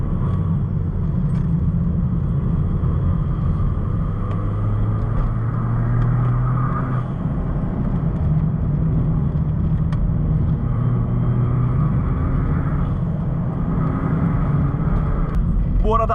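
A rear-wheel-drive car driven fast up a hilly road with sharp bends, heard from inside as a loud, continuous engine drone and road rumble whose pitch rises and falls slightly, with a voice talking faintly over it.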